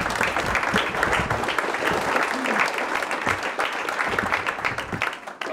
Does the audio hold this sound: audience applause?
yes